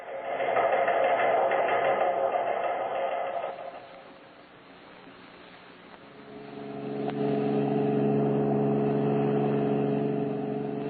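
A car engine runs as a radio drama sound effect, a steady mid-pitched drone that sags and softens for a few seconds before swelling back to full strength, with no voices over it.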